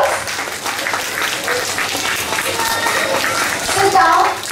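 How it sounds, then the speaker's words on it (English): A crowd of students and teachers applauds student performers at a school assembly, a steady dense round of clapping with children's voices mixed in near the end. "Let's give them a big round of applause."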